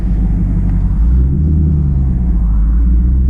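Deep, steady exhaust rumble from a Camaro SS 1LE with an MBRP axle-back exhaust, heard from inside with the windows down; loud and continuous low drone through the whole stretch, no talking.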